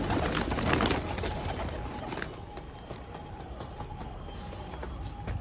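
Soft pigeon cooing nearby over a rumbling background hum, the low calls repeating gently with no talking.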